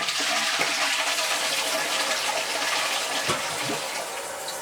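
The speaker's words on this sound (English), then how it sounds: "so we're just going to flush the toilet." A toilet being flushed while fixing one that keeps running: a loud, continuous rush of water gushing and draining close by, steady throughout with slight gurgling variation and no talking.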